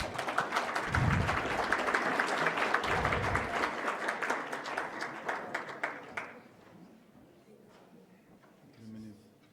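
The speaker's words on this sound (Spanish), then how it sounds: "Les pido un fuerte aplauso" An audience at a panel on family businesses and governance bursts into strong applause, dense clapping for about six seconds before it stops abruptly, leaving quiet room tone with a brief voice.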